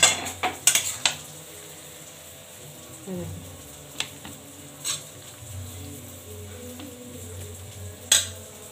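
A spoon scrapes and clinks against a pan while bottle gourd leaf curry is served out in a home kitchen, with scattered metallic taps and scrapes over a low, steady background hum.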